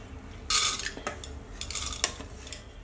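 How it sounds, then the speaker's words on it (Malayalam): Toor dal is transferred into a pressure cooker for Kerala sambar, heard as sharp metallic clinks and scrapes of a spoon against the vessel. A few quick clatters come in bursts, close and clear, with no talking. "ഞാൻ ഇവിടെ പരിപ്പ് ഈ കുക്കറിലേക്ക് മാറ്റാം."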